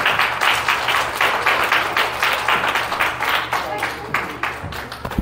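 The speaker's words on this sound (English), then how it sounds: "Let's give God a hand clap of praise." A church congregation at a Sunday worship service claps hands in praise, a dense, loud, continuous wash of clapping with a rhythmic pulse running through it and faint voices underneath.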